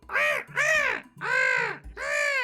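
Four loud, harsh crow caws in a quick series, close and clear with no talking, used as a bird sound effect during a tabletop fantasy adventure game.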